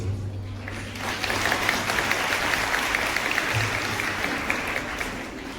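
Applause from the audience at a school annual function, Hashmi Inter College in Amroha: steady crowd clapping throughout, moderately loud, with a low hum underneath.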